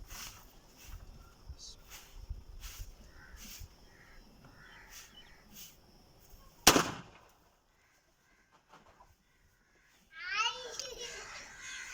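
An air gun test-fired with Eley Grand Prix pellets gives a single sharp crack midway through, set against faint outdoor background of crows and distant voices, followed by near silence and a brief voice.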